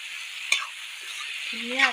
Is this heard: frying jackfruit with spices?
yes